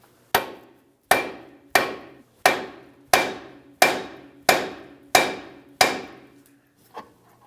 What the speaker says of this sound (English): so when I tap on this knuckle, the tie rod will come down, but it can only come down so far.